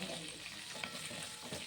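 Chopped carrots frying in a hot pan for a tangy carrot pickle, giving a steady, close sizzle with light stirring crackle throughout and no talking.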